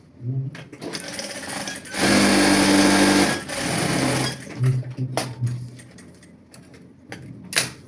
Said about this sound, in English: You're going to sew it like this, straight down.